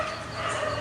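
Dogs bark and yip amid a loud, noisy outdoor din, one continuous burst of rough canine sound with no clear gaps.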